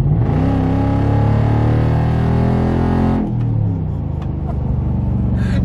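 A Nissan Titan truck with a new loud exhaust revs hard, its deep rumbling drone holding strong and close for about three seconds before the engine note drops back to a lower, quieter burble.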